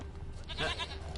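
A goat in the video game The Witcher 3 gives a single short bleat over a low steady background hum, fairly faint and with no talk.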